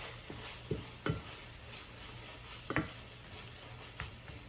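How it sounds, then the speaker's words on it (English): Taco meat sizzling in a pan on turned-down heat, a soft steady fry broken by several spatula scrapes and taps as it is stirred. "Give it another stir"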